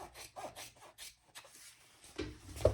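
Fabric or paper being trimmed while sewing a Kaplan pattern by Simply Classic, heard as quiet rubbing and rasping scrapes in short bursts, ending in a louder close rustle.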